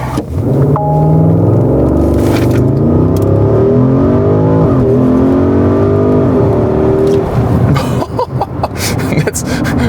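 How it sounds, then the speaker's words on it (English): A 550 hp Porsche Cayenne Turbo Coupé engine revs hard in a Sport Plus launch control start, accelerating in a sustained, rising roar close by, shifting through gears as the pitch climbs and drops repeatedly. "we go to Sport Plus here to show you the launch control"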